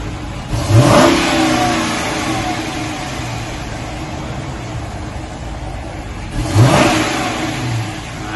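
A 2020 Chrysler 300 V8 on its stock factory exhaust revs twice, each blip swelling briefly above a steady, fairly subdued idle, heard up close with no talking.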